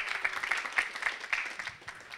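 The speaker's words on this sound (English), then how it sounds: "Round of applause." A small audience at student iPhone app presentations gives a light round of applause, quick scattered claps at a modest distance.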